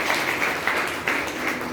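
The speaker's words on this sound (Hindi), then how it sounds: "ताली हो जाए" A short burst of audience clapping fills a lecture hall, moderate and steady with individual claps faintly pulsing and no talk over it.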